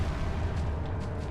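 A grenade blast in Resident Evil 4 lands as a brief, muffled boom with a rumbling tail, short and moderately loud, with no voices.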